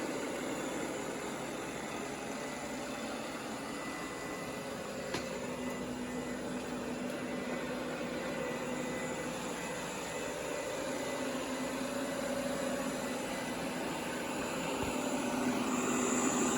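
Exhaust air from the side of a Shark IQ robot vacuum's self-empty base dock blows steadily, a continuous even whooshing hiss that holds close and level throughout with no voices.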